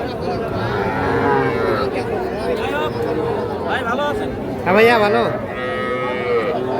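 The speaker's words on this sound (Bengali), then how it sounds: "আর এগুলো সবই হচ্ছে ষাঁড় বাচ্চা" Bull calves, including crossbreds, moo repeatedly at a busy village cattle market. Several drawn-out calls come from near and farther away, with one loud bellow near the end, over steady crowd chatter and voices talking close by.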